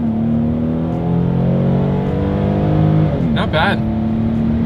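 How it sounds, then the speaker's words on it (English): A 2022 Kia Carnival minivan pulls hard from a standstill, its engine droning loudly and rising steadily in pitch with a brief tire chirp, while someone talks over it inside the cabin. "Let's put the Carnival here to the test and let's see how quickly we can get this one here up to speed"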